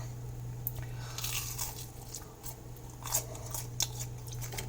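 Quiet, close crunching bites into a crispy tortilla on a jalapeno popper quesadilla with cheese, a few sharp crackly snaps over a steady low hum.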